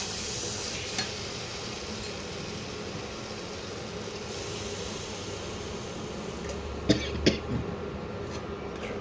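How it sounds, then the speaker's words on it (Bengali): Water poured into hot spiced oil in a pan for a snakehead fish curry sets off a steady sizzle and hiss that fills the whole stretch, with a few sharp coughs or clatters near the end and no talk. "এবারে আমি জল দিয়ে দেবো।"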